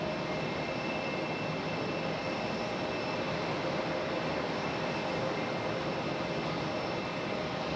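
A Spirit Airlines airliner landing at Raleigh-Durham International Airport, heard as a steady, broad jet roar that holds at a fairly constant level throughout with no voices.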